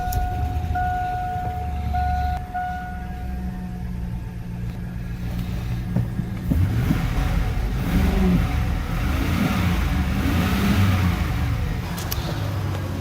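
A 5.3 V8 in a pickup truck, paired with a 4L60 transmission, starts up and idles roughly, then revs into a loud steady roar that holds, close by with no talk.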